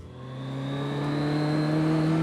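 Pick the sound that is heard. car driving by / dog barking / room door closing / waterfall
car driving by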